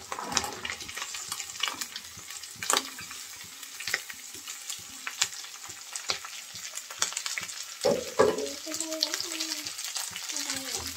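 Potatoes and flat beans tossed into a pan of shrimp fried with onion and garlic, giving a steady close sizzle with repeated scraping stir strokes and a few louder clatters midway.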